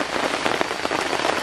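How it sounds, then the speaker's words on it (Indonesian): Rain falling steadily at a jungle campsite in Kalimantan, a dense, continuous patter of drops hitting nearby surfaces, close and loud with no voices. "Nah, ini kondisinya sedang hujan."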